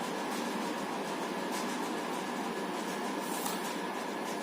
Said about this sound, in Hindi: पंखा मैंने चला रखा है और हो सकता है पंखे की आवाज आ रही है वीडियो में